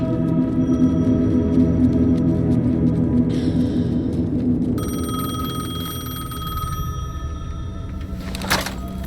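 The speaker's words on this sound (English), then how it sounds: "Payphone was ringing." A payphone rings inside the video game Alan Wake 2, its repeating electronic bell tones standing out over a low droning ambient hum, with a brighter burst near the end.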